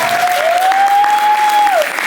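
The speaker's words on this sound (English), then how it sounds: "Let's give them a big round of applause." Steady, dense applause from a crowd filling the whole stretch, with a faint sustained tone running beneath the clapping.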